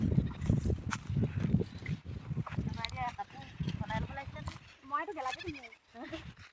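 Goats bleat in a field where potatoes are being dug, with several clear, wavering cries clustered toward the end, close and fairly loud, heard over and between people talking.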